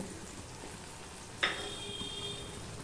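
Ginger tempering in hot oil in a pan for a Bengali paneer dish, giving a steady, close frying hiss with one sharp sizzle burst partway through before settling back into a constant crackle.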